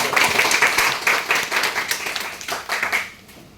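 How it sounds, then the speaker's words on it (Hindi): An audience claps loudly at an Independence Day gathering, a dense continuous patter that fades toward the end. "आप सभी लोग एक जोरदार ताली बजाकर"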